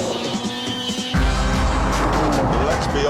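A Jaguar F-Type sports car driven fast: a quieter cabin hum gives way after about a second to a loud, steady engine roar with road and tire noise, and a voice may be talking over it.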